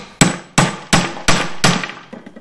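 A socket struck with a hammer to drive a bushing into a Chevy Nova control arm: five loud, close metallic blows at an even pace, each ringing briefly before the next.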